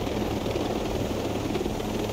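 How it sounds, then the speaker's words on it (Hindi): A helicopter in flight in the video game Tom Clancy's Ghost Recon Breakpoint, giving a steady, dense rotor and engine rumble that stays constant and fairly quiet, with no voices. "नज़दीक जाके हेलीकॉप्टर छोड़ दूँगा"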